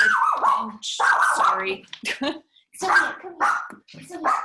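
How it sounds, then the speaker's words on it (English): A dog barks in short bursts close by, mixed in with a person speaking over and between the barks. "Sorry, that's my dog."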